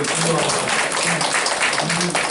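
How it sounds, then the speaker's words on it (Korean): A church congregation applauds, a steady wash of clapping filling the room throughout, with voices talking over it. "박수 한번 쳐주세요"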